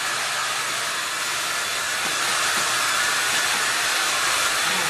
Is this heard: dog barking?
no